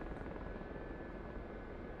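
Simulated helicopter in the DCS World flight game on the Germany map, a steady rotor and turbine drone holding an even, continuous loud level throughout with no speech over it.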